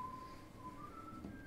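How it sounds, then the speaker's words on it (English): A faint melodic whistle from the Game of Thrones video game character Jon Snow carries a thin wavering tune over a low steady background hum, with no talking. "He's whistling."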